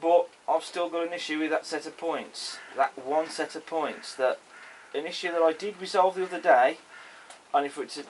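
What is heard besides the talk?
No everyday noises stand out.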